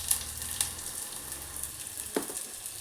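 Curry leaves, dried chillies and a pinch of asafoetida sizzle in hot oil, a steady frying crackle with a few sharper pops, close and moderately loud, with no voices.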